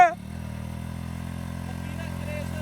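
A motorcycle engine held at high revs, a steady loud drone with dense harmonics that continues for the whole stretch after a brief opening sound.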